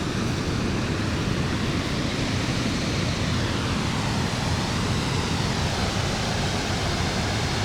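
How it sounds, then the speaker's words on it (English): Water pours steadily over a small weir on the River Soar by a canal, a dense, continuous rushing roar heard up close with no pauses. "there's quite a bit of water coming over there"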